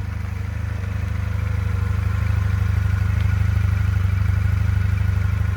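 A Euromotors 250 Retro sidecar motorcycle engine runs steadily at a low, even idle, a constant deep rumble with no voices.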